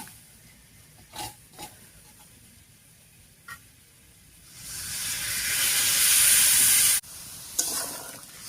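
Water poured into a hot pan of hog plums fried with salt and turmeric, a loud steady hiss of steam and sizzle swelling for a couple of seconds before cutting off abruptly, with a few light clinks before and after.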